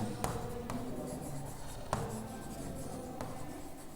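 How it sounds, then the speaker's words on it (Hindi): Chalk or marker writing a sentence on a classroom board, with soft scratchy strokes and a few sharp taps as letters are made, close up and fairly quiet. "आइए एक सेंटेंस और लिखते हैं।"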